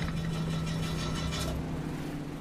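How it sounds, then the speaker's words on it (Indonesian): A boat engine runs with a steady mid-pitched drone and constant vibration, close and unbroken for the whole stretch, with no voices. "Akhirnya mesin kapal itu kembali hidup dan melanjutkan perjalanan lagi."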